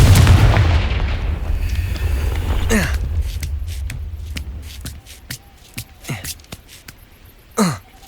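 A Confringo blasting spell in the video game Hogwarts Legacy bursts with a loud, rumbling explosion that fades after a few seconds, followed by scattered whooshing swishes and thuds of spell effects.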